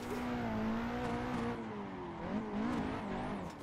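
A modded Nissan 180SX S13 drifts in the Assetto Corsa racing game, its engine howling and wavering in pitch as the revs rise and dip, with tyres scrubbing underneath and no voices.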